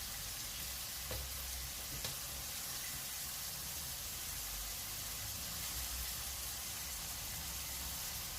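Tomatoes and green turkey berries sautéing in a pan give a steady, even hiss of frying that holds at a constant level, with a couple of faint taps from a spoon early on and no voices.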